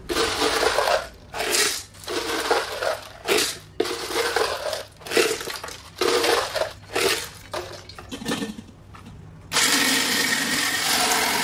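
Stainless steel HK400 ice shaving machine with three blades grinds ice up close in repeated loud crunching bursts separated by brief pauses, ending in one sustained run of steady shaving.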